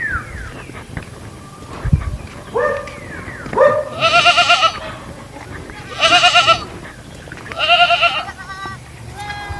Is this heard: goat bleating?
yes